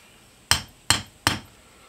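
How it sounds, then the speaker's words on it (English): A hammer strikes a gold baby bracelet's toggle clasp three times in an even rhythm, each sharp, close metallic smack ringing briefly and standing alone. "give it a few smacks with the hammer"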